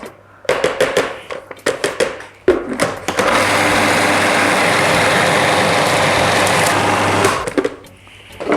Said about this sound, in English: So I'm going to keep processing till it gets a little bit finer.